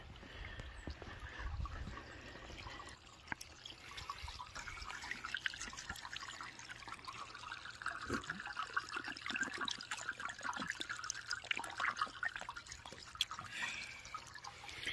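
Natural spring water trickles and drips steadily outdoors at Natural Bridge, Alabama, a soft continuous splashing with scattered close drips and no talk.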